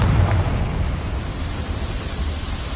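Confringo fire spell blast in Hogwarts Legacy, a loud rumbling burst at the start that settles into a steady low roar of rushing noise.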